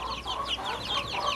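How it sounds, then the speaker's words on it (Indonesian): Free-range village chickens kept in a backyard pen cluck in a quick, soft, repeated series at moderate distance, with no talking. "yang pertama kita bisa lakukan ternak ayam kampung seperti ini"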